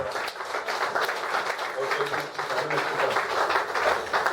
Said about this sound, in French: On nous applaudit l'église.